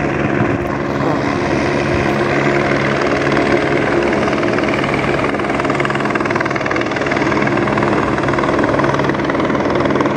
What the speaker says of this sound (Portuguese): Ó, vai o helicóptero lá.